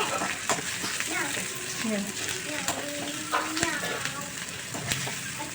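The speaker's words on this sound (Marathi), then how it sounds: "टोमॅटो आपल्याला इथं मऊ होईपर्यंत कांद्यात परतून घ्यायचं आहे" Onion and tomato sautéing in a pan for a sprouted masoor lentil curry, a steady close sizzle with scraping stirs and clinks, while a person talks over it in the background.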